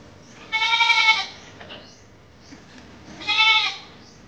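Goats bleat in two loud, nasal, wavering calls separated by a short pause, close by against a quiet background.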